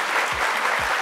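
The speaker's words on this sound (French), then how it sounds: "Merci d'applaudir très fort pour Andrea Etienne." Dense, continuous clapping from a large audience, loud and close, with no voices standing out.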